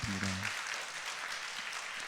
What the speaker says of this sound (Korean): 우리 잠깐 일어나서 우리 격려 박수 들어가겠습니다.